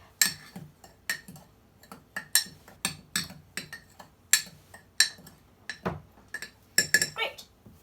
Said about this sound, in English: I'm going to take my tiny spoon and mix the white powdery ingredients together and really blend them up